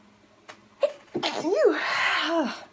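A single close sneeze with a sharp intake of breath and an explosive burst, followed by a fading exhale.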